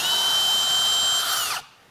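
A power drill runs at steady high speed for about a second and a half with a whining, buzzing motor tone, then cuts off abruptly, leaving near silence. It sounds close and loud, with no voices.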